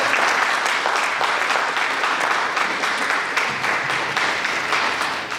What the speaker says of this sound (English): please join me in a round of applause for all of our panelists